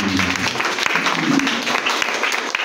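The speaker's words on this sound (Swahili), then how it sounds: "Yesu makofi." Applause from a church congregation during a prayer service, a steady wash of hand claps filling the room with some voices mixed underneath.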